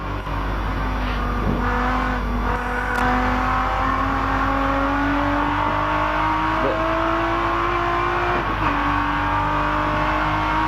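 Denny Hulme's racing car at the 1984 Bathurst 1000 sounds a loud, close engine note that rises steadily through the gears, with brief dips at each shift, under a constant roar.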